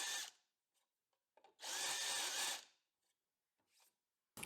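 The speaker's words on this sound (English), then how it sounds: "Now I'm pre-drilling the aluminium plate and doing a countersink" A power drill pre-drills and countersinks an aluminium plate, whirring in short bursts, one longer run of about a second between brief spins and pauses, close and alone.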